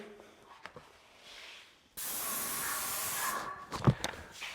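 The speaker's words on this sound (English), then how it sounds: "I'm going to spray the handrail and get that ready" A sudden loud, steady hiss of an airless paint sprayer spraying a staircase handrail starts after quiet handling noises and continues, with a few knocks near the end.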